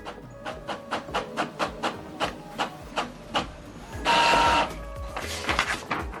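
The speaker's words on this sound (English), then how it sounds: "So now it's printing." An Epson XP-5200 inkjet printer prints a test page, close and alone: a steady run of a dozen sharp, evenly spaced mechanical clicks, then a loud hissing whir as paper feeds, followed by more rapid clicking.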